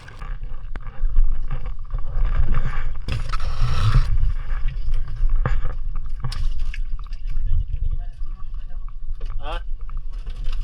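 A small wooden bangka carrying lobster and octopus fishermen motors home across the water, with a steady low engine rumble and splashing hull noise throughout, joined by occasional scrapes and knocks.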